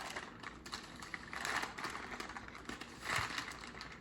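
Parchment paper is peeled away from a block of homemade soap, giving soft crinkling and crackling rustles in uneven bursts, close up with no talking.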